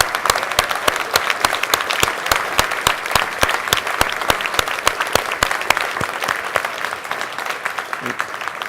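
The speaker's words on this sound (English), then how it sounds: "So a special round of applause from the audience for this incredible group of entrepreneurs." An audience at a digital health startup demo day gives sustained applause for a group of entrepreneurs: dense, steady clapping with sharp individual claps standing out, continuing throughout.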